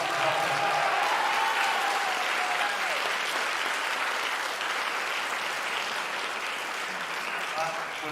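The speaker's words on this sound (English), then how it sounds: "Please give him a round of applause for helping us." Sustained audience applause at a percussion ensemble concert, dense and steady clapping from a crowd that holds for several seconds and tapers slightly.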